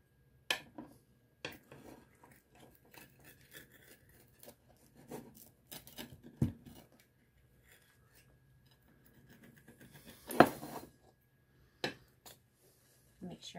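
Homemade pan pizza is cut into four slices, heard as faint scraping, crunching cuts and occasional knocks of a utensil on the pan, with quiet gaps between strokes.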